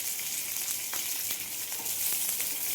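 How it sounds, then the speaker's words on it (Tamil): Chopped onions with curry leaves sauté in a pan for a samba wheat upma, giving a close, steady sizzle and crackle with small pops throughout. "வெங்காயம் நல்லா வதங்கட்டும்."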